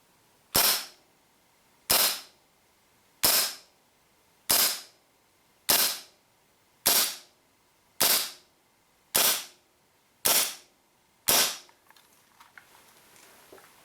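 A WE P08 Luger airsoft pistol running on green gas fires 0.2 gram BBs: ten loud, crisp pops spaced evenly about one and a half seconds apart, each with a short hissing tail, close by and alone.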